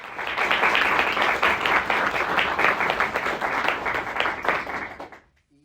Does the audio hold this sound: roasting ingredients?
no